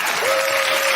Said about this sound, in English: Give a round of applause for Coach T, ladies and gentlemen.